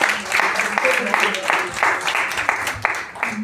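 A church congregation claps loudly for a woman preacher as she is welcomed to the pulpit, in a dense, steady patter with a voice audible over it.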